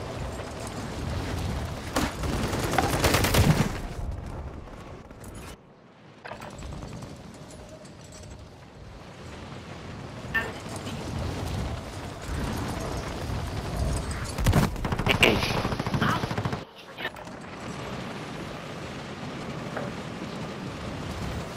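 Dense, continuous gunfire and explosive rumble from a Call of Duty match fill the scene, with louder bursts early on and near the middle over a steady roar of battle.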